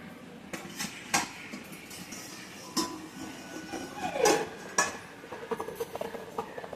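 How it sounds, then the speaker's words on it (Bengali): A metal lid is lifted off a pan where Lota fish has been steaming over boiling water, with several clanks and clinks of metal against metal and a brief scrape, close and fairly quiet. "এবার আমি কিন্তু ঢাকাটা খুলবো।"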